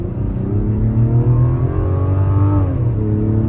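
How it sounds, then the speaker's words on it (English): A 2024 Mazda CX-90 Preferred Plus three-row SUV revs its engine hard toward the redline, a loud, close, sustained rising drone with climbing harmonics and a brief dip near the end, heard alone. "this thing just really likes to be revved out to the red limit"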